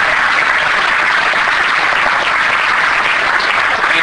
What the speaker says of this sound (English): you must applaud when that name is mentioned